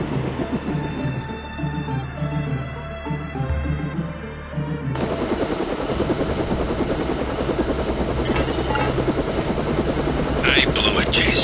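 A stealth helicopter flies in Deus Ex, a continuous loud rotor drone with bursts of gunfire-like crackle breaking in toward the end.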